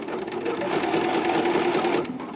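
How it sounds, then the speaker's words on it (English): Sewing machine straight stitching in the ditch through fabric on a vintage-style wrap top, a steady close whirring run of needle strokes lasting the whole stretch without pause. "I'm straight stitching this on. You can see I'm stitching in the ditch on this."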